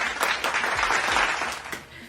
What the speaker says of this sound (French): Oh, un tonnerre d'applaudissements, s'il vous plaît.